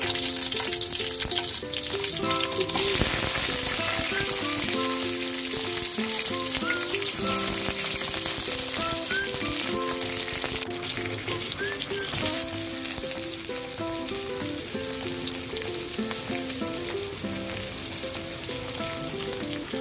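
Garlic sautés in a pan for a Filipino munggo dish, giving a continuous, fairly loud sizzle and crackle over nearly twenty seconds, with steady background music and no speech.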